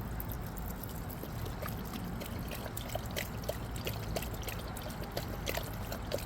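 Water pours in a steady, close trickle into a bowl for a dog named Mr. Royce, running continuously at low volume with light splashy spatters.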